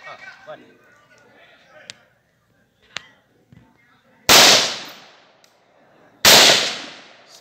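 Two loud gunshots ring out a couple of seconds apart during a jungle fire-and-move tactics drill, each with a long echoing decay, after softer talk and a few faint clicks.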